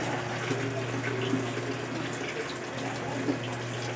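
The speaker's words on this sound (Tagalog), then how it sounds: "Yan, lagyan mo ng tubig." Water pours into a cooking pot for simmering tuna with vinegar, a steady close splashing rush that keeps an even level throughout.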